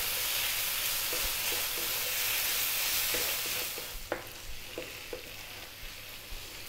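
Tomato paste cooks in a pot with a soft, continuous sizzle that fades partway, followed by several distinct spoon scrapes and knocks against the pot as it is stirred.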